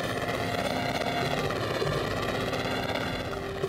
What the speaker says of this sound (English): The chopper is dangerously overloaded.